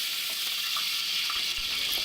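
Chopped onion frying in hot oil, a steady loud hiss and sizzle with faint crackles, close and continuous with no talking.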